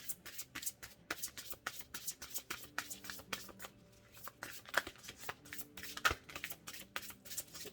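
Tarot cards being shuffled by hand in repeated crisp riffling bursts, close and fairly quiet, with a few sharper snaps and no talking.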